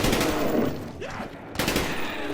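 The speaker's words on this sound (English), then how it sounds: "this gun shoots kind of slow, but it does a lot of damage" AK-74u fire in the Call of Duty zombies map Kino der Toten, a few slow, heavy shots standing out over dense game noise, with a short gap before another burst.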